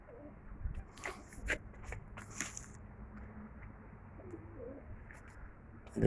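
A pigeon coos softly a few times amid light fluttering and scattered chirps, with quiet background hum; a Sivas Sarıgöz blue pigeon.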